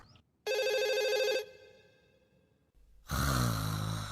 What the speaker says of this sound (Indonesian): Ada telepon dari Suneo.